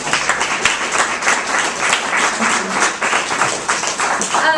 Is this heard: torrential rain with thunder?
no